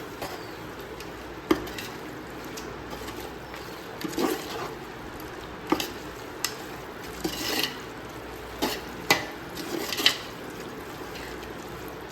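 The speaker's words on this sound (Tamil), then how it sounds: "இப்போ இது எல்லாத்தையும் நல்லா போட்டு மிக்ஸ் பண்ணிக்கணும்" Wet stirring and scraping of spiced mutton for seeraga samba biryani in a pot, with intermittent clinks of a utensil against the metal at an irregular pace, close up and moderately quiet.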